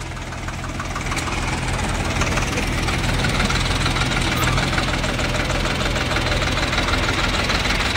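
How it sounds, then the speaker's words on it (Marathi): A loaded tractor hauling a trolley runs with a steady, loud low engine drone that holds throughout, with a faint, rough knocking texture and no break. "महाराजांचा ट्रॅक्टर आता लोड झालेला आहे आणि महाराज आता चालले"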